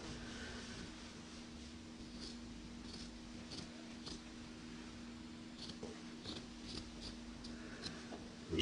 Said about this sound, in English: the first thing we're going to do is cut off the sleeves